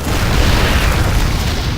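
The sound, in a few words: siege tanks firing in StarCraft video game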